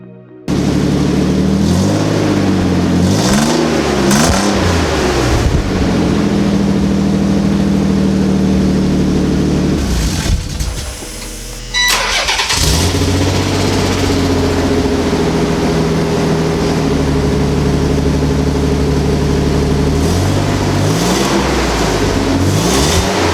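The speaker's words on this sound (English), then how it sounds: "I think it might be time to go ahead and test the exhaust" A Nissan 300ZX engine fitted with a custom exhaust, loud and close, rises and falls through repeated revs. It drops briefly to a near-idle lull around the middle, then climbs back into sustained revving to the end, with no talking.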